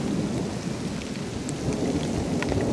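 Heavy rain pours steadily during a thunderstorm around a truck camp, a dense close hiss with low rumbling thunder rolling underneath throughout.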